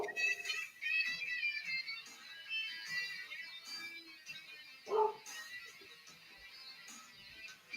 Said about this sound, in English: Go check if there's something outside for delivery, or she's just barking at a bark.